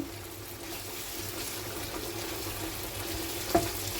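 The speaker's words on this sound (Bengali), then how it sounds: "এখন একটু জল দিয়ে দেবো এই দেখো বন্ধুরা এইটুকু জল দেব দিলে সিদ্ধ হয়ে যাবে" Water is added to a pan of simmering dorade fish curry with potatoes, giving a steady bubbling sizzle close by and a small splash near the end.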